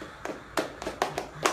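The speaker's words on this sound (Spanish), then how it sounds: "Todas las palmas" Flamenco palmas for bulerías, a series of sharp hand claps in an uneven syncopated rhythm, close and crisp with brief gaps between them.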